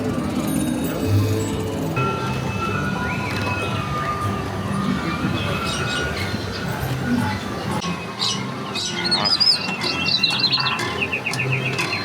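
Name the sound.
birds chirping in a Disneyland display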